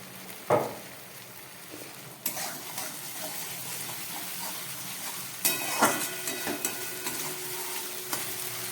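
Katla fish and eggplant frying in mustard oil give off a steady, close sizzle, with a few sharper stirring scrapes and louder hissing bursts near the start and middle.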